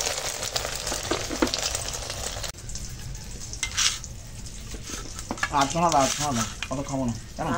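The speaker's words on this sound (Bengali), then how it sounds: "এবার ভেজে নেবো ডিম" A salted egg fries in a pan with a close, crackling sizzle that drops quieter partway, followed by stirring clatter and indistinct voices talking over the frying.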